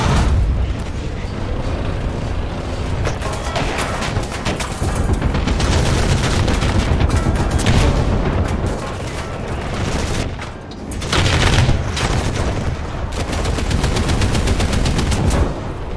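Heavy machine gun fire in the video game War Thunder, a loud, nearly continuous rapid hammering with booming explosions mixed in, pausing only briefly before resuming at full intensity.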